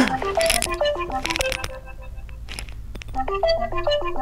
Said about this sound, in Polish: dzwonię do niej